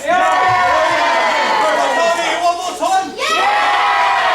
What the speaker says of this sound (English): Jake McCluskey really riling the crowd up